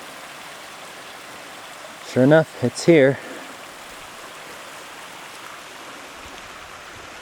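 A mountain creek flowing, a steady soft rushing and trickling that continues throughout, with someone briefly speaking over it partway through.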